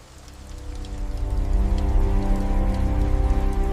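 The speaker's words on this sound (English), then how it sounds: "Rain falls against tall windows of Villa Lindner as Marina sits at a long table surrounded by" Rain patters steadily against tall windows of a villa, a dense close hiss of drops over a low hum, swelling in loudness during the first second and a half and then holding level.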